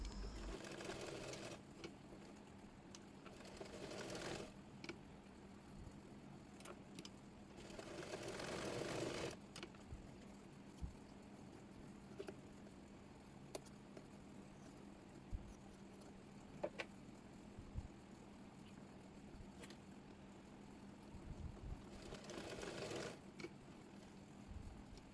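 A sewing machine stitching fabric for a baby girl's frock runs in a few short separate bursts, faint and close, with long quiet stretches between them.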